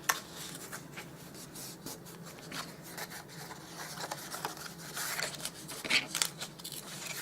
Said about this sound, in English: now we're going to fold on all of those score lines. And I'm actually folding it all up right now.